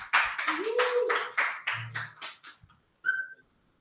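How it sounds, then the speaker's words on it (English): A small audience at a Sitecore user group meeting in Brazil gives a short burst of applause: several loud, separate clap bursts that fade out, followed by a brief whistle. "so applause, everyone"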